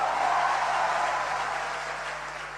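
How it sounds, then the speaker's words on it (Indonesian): Judges give loud, continuous applause in a hall after President Prabowo announces a pay rise for judges. The dense clapping holds steady and eases slightly toward the end. "Riuh tepuk tangan dari para hakim yang hadir terdengar usai Presiden Prabowo mengumumkan keputusan pemerintah untuk menaikkan gaji para hakim."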